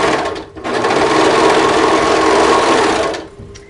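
A serger runs at speed, stitching cuff fabric cut from a sweater in one sustained, close, whirring burst of about two and a half seconds, starting after a brief stop and winding down at the end.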